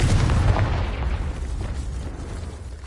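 The Confringo explosion spell in Wo Long: Fallen Dynasty goes off as one deep boom, heaviest at the start and fading into a low rumbling tail.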